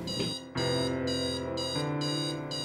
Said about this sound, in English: The sound of the alarm is what starts your day.